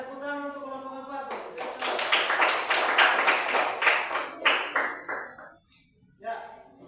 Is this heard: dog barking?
no